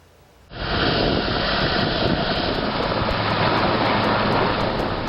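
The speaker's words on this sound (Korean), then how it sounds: "무장한 경찰들을 태운 헬기가 출동하고" Loud, steady roar of a police helicopter starting up and taking off in southern Albania, beginning abruptly after a brief quiet moment and holding a constant rotor and engine drone.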